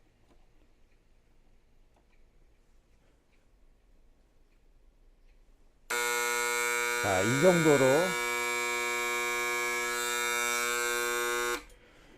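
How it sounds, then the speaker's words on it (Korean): A freezer failure alarm box sounds a loud, steady electronic buzzing tone for about six seconds after a quiet stretch, with a person speaking briefly near its start. "이 정도 크기로 알람을 울려주기 때문에 일단 이상이 생기면 알람이 울게 됩니다."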